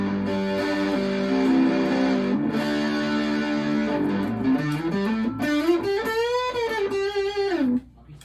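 An Epiphone electric guitar on the neck pickup plays through heavy distortion, sustained chords, then a bending and sliding phrase that cuts off abruptly. The sound is loud and up close, with no talking.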